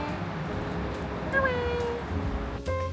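A cat meows a few times, short rising cries standing out over a quiet background hum.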